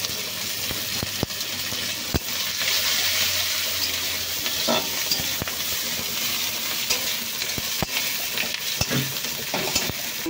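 Cumin seeds, chopped green chilli and onion frying in hot oil for a fish curry with plantain, giving a steady close sizzle with sharp stirring clicks and utensil taps throughout.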